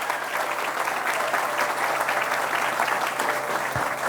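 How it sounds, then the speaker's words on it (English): Sustained crowd applause at a university athletics groundbreaking ceremony for a performance center, a dense steady wash of clapping hands from many people lasting throughout, with no speech over it. "So how about a round of applause for our students here this morning?"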